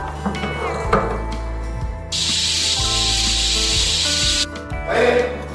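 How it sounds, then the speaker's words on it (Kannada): Pressure cooker hissing a loud, steady burst of steam for about two seconds while cooking dal with gooseberry water, framed by quieter kitchen clatter before and after. "ಇದನ್ನ ಆ್ಯಡ್ ಮಾಡಿಬಿಟ್ಟು 4 ವಿಷಲ್ ತೆಗಿತಾ ಇದ್ದೀನಿ"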